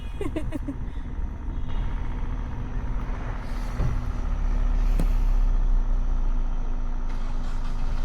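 A car is eased out along a narrow lane, its engine a low steady rumble that grows louder toward the end, with a brief hiss and passing traffic noise nearby.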